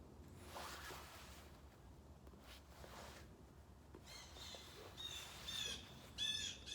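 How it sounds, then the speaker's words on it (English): Birds chirp faintly in the background, with a few brief, high tweets growing clearer toward the end over a low room hum. "Oh, bird in the background"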